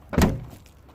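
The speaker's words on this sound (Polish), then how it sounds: "Drzwi kierowcy, 12 rok." The driver's door of a 2012 Renault Megane 1.6, giving a single solid thunk at close range followed by a quick fade to quiet.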